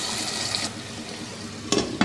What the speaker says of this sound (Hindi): अब इसमें शामिल कर देंगे पानी हस्बे ज़रूरत।